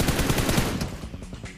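Rapid automatic gunfire from PUBG Mobile rattles continuously in a dense, loud burst, fading slightly toward the end.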